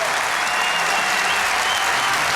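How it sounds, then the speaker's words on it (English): A large esports crowd at DreamHack Winter 2014 applauds the winning Team-LDLC with dense, continuous clapping that fills the hall. "Keep the applause going"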